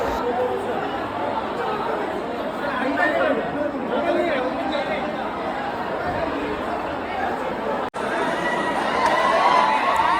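Dense crowd packed inside the Sandhya 70mm cinema hall at a Pushpa 2 screening, a loud continuous roar of chatter, shouts and cheering voices close around, with a brief dropout near the end.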